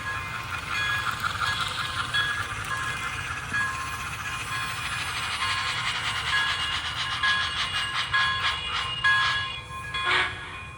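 MTH Big Boy model steam locomotive running on a layout, a steady mechanical rumble with hissing steam chuff and rail clatter that grows into a brisk rhythmic clicking toward the end, continuous and fairly close.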